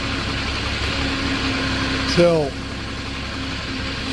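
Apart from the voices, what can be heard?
forklift engine starting and idling (2015 Moffett M8 55.3)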